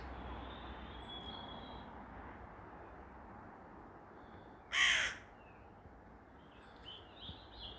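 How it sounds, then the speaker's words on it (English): A crow gives a single harsh caw, fairly loud and somewhat distant, over a constant low outdoor background rumble, with no speech. "There's a crow up there."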